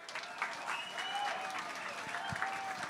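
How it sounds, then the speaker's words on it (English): Loud, sustained applause from an audience at a radio station's 50th anniversary gala, with scattered whoops and cheers rising over the clapping. "We need 50 years worth of applause."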